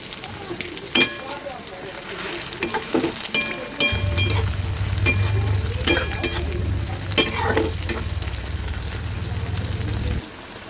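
Chopped onion and a green chili frying in a pan for a fish paturi dish, sizzling steadily up close with sharp scraping stirs and clatter, a low hum joining partway through.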